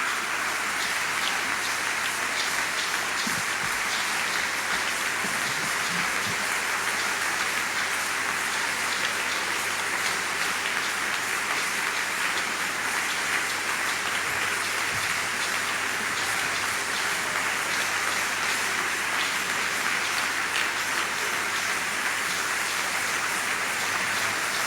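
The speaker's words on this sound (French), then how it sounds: "Alors applaudissons pour le Seigneur pendant qu'ils s'en vont." A church congregation at a French-language RCCG Holy Ghost communion service claps steadily and continuously, a dense, even patter like heavy rain that holds without a break.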